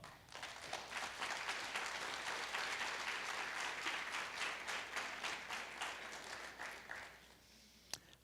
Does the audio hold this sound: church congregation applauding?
yes